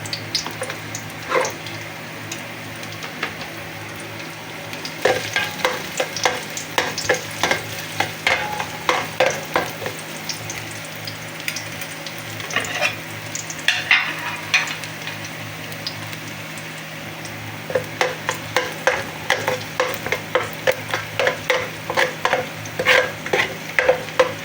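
Garlic sautéing in an oiled pan for chicken mechado. Quick rhythmic stirring scrapes and taps sound over a steady bright sizzle, growing busier toward the end.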